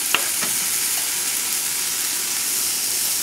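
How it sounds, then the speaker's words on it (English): Chopped bacon, about two slices, sautéing in a pan with a steady close hiss and sizzle and a couple of faint clicks near the start, with no voices. "So we're going to saute this"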